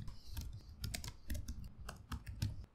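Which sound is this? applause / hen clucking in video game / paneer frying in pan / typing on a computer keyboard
typing on a computer keyboard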